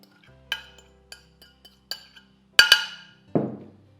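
Stuffing is being stirred into bread dough for a flat bread loaf, heard as sparse clinks and taps of a utensil against a bowl, ending in a couple of louder scraping knocks.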